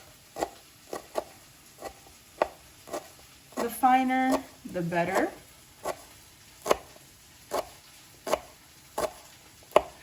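Sharp, evenly spaced knife chops through parsley on a cutting board, steady and close, briefly interrupted by a short spoken remark.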